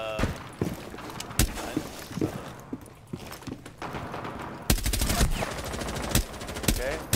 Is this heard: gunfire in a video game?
yes